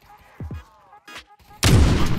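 A single loud gunshot blast in the zombie mode of the VR shooter Pavlov VR, erupting suddenly after brief muffled talk and ringing out to the end.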